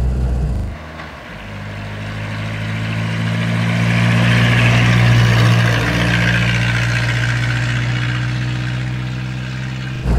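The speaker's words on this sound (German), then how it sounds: "er fährt sich, er schnorchelt so vor sich hin" A 1940 Rosengart LR539 Supertraction classic car with its engine running: a steady, loud, close low-pitched drone with a slight putter that holds for about ten seconds, with no talking.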